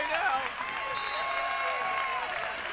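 Home crowd at an SMSU Mustangs men's basketball game against Augustana cheering and clapping steadily in a busy arena, with a broadcaster's voice running over the noise.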